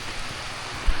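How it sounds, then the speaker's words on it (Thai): Rain falls on a village in Laos with a steady, close hiss and patter, one soft low thump near the end, and no voices. "ฝนกำลังตกมาแล้วเนาะ"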